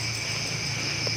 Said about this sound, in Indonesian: Ini mau kodok sawah.